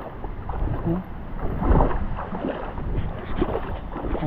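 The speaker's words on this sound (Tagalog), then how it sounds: "lakas ng hangin." Strong gusty wind buffets the microphone outdoors on a calamansi farm during watering with a hose, a rough, continuous rumble that swells and eases over a few seconds.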